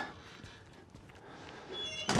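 A door thumps shut in the horror game Outlast, a single close, loud impact at the very end after a stretch of dim ambient room tone.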